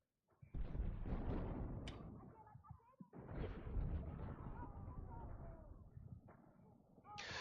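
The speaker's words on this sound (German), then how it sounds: "Ich glaube, irgendein Panzer schießt da drin." Tank cannon fire in Battlefield 6, two heavy booming blasts with rumbling decay, the second rolling longer, mid-distance amid game noise.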